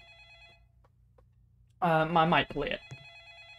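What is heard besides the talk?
telephone ringing in a Roblox horror video game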